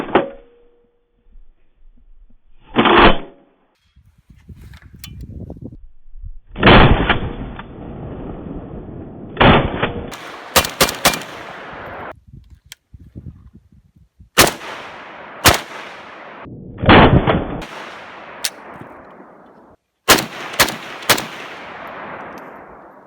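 An Arsenal SLR107FR rifle fires loud, sharp shots outdoors, some single and some in quick double taps, each with a rolling echo that decays in the quiet between them.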